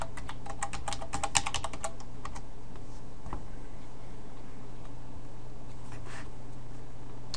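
Fast typing on a computer keyboard, a close burst of crisp key clicks at the start that thins to a few scattered taps over a steady low hum.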